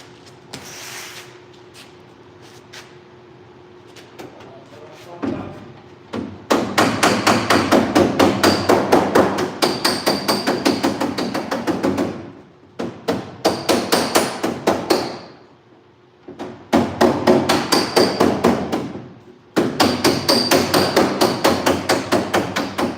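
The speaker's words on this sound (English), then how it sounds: "Get a bigger hammer." Rapid, loud hammer blows on the sheet metal cab of a 1986 Ford F150 in long dense bursts, separated by brief pauses, with a quieter stretch of lighter tapping at the start.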